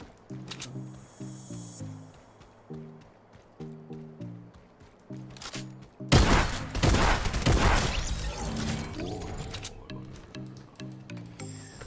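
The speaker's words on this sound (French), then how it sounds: "Le pompe de guerre, vous voyez, il vient de me sauver la vie." Pump shotgun fire in Fortnite, a sudden loud blast with a dense burst of impact noise that fades over several seconds, following stretches of rhythmic game music and effects.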